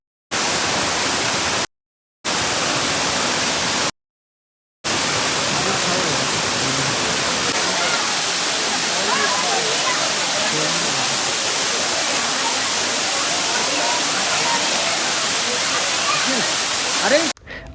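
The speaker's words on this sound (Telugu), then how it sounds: "అసలు చూసారా మీరు ఈ వాటర్ ఫాల్స్ ఎంత బాగుందో, ఎంత బ్యూటీగా ఉందో." Raikal waterfall near Hyderabad in the monsoon season gives a steady, loud, close rushing roar of falling water. The sound cuts out briefly twice near the start, then continues unbroken.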